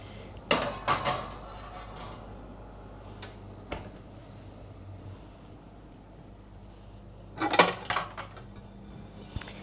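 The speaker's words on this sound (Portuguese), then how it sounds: "isso aqui é alumínio, então eu vou colocar dentro do forno para terminar de secar" Aluminium baking pans clattering as they are put into a still-warm oven, with two close bursts of metallic rattling and knocks separated by quiet, and a lone clank near the end.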